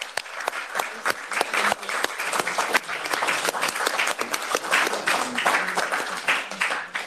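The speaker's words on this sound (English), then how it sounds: "Let's give him a big round of applause." Applause fills a room at a European Parliament interest-group event on integrative mental health, a moderate crowd clapping steadily with individual sharp claps standing out throughout.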